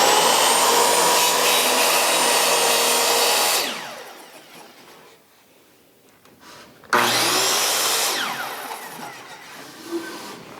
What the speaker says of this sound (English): we're going to put a cut into that fence